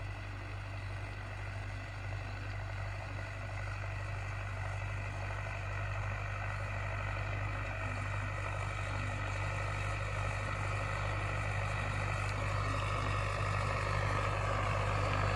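A tractor on narrow tyres runs steadily during a fungicide and insecticide spraying pass over a barley field, giving a continuous droning engine hum that holds a near-constant level throughout.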